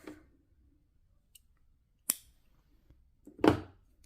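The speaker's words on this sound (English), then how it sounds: "and then cut off" Scissors snip through yarn after a crochet round, giving two or three sharp, isolated clicks of the blades in an otherwise quiet room.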